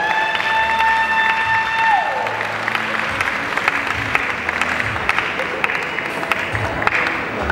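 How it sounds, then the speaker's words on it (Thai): A crowd applauds at a beauty pageant final show, with sustained clapping and some cheering spreading through the hall, opening over a fading tonal sound. "ขอเสียงปรบมือให้เธอด้วยครับ"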